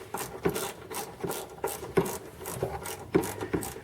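Bolts being worked loose on the upper radiator support of a 2000 Dodge Ram 1500, with a rhythmic series of close scraping, rasping tool strokes and small ticks repeating roughly every half second, no talking.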